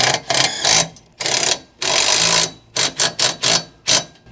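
A ratchet socket wrench with a 20mm socket tightens a bolt on a CYKE Oxen W e-bike hitch rack, giving loud, close ratcheting bursts: long sweeps first, then a run of short, quick strokes.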